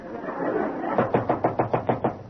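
A radio show sound effect of knocking at a door: a series of about seven firm, evenly spaced raps, close and fairly loud, following a brief moment of murmured background.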